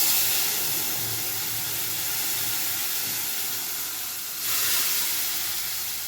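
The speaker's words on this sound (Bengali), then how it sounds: "এবারে এর মধ্যে ওই সেদ্ধ করা ডালটা ঢেলে দিচ্ছি।" Boiled dal is poured into hot tempering in a pan over a gas flame, giving a steady loud hiss and sizzle that swells briefly near the end, with no talking.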